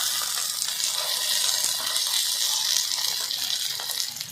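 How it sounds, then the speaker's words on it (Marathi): Sabudana appe sizzling steadily in an appe pan while they roast, a continuous bright frying hiss with small crackles and no voices. "हे सर्व आप्पे परतून घ्यायचे आहेत व परत पाच मिनटं झाकण घालून हे भाजून घ्यायचे आहेत"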